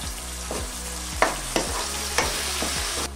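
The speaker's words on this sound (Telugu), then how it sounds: "2 మీడియం సైజ్ టొమాటోలు సన్నగా తరిగినవి వేసుకోవాలి" Two medium finely chopped tomatoes fry with ginger-garlic paste in a pan for pepper chicken masala, under a steady close sizzle broken by several sharp scraping stirs of a spoon against the pan.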